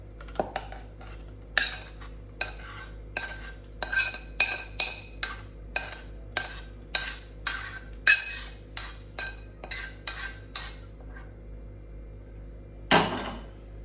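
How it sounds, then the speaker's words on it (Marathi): Cooked green tomatoes for chutney are moved onto a plate with a metal spoon, making a series of sharp clinks and scrapes against cookware, close and spaced irregularly, then a final louder clatter. "हे टोमॅटो आपण एका प्लेटमध्ये थंड करण्यासाठी काढून घेऊयात"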